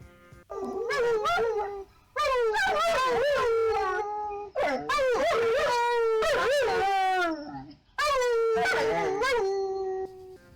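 A dog howls in long, wavering, drawn-out notes, four howls in a row with brief pauses, loud and close.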